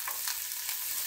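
Garlic sautéing in a hot pan, ahead of the ginger, gives a brief, steady sizzle with a soft stirring rustle.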